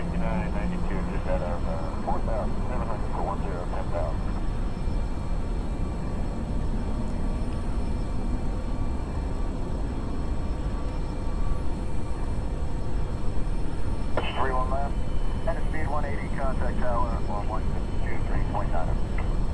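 Engine number two drones steadily in the flight simulator X-Plane 10, a constant airplane engine hum that runs the whole time beneath intermittent speech.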